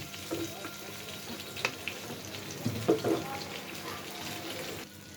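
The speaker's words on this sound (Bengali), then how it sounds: "তেলটা দিয়ে দিলাম।" Cooking oil poured into a heated pot for bitter gourd fry gives a low, steady sizzle and soft hiss with a few faint clinks, fairly quiet throughout and without speech.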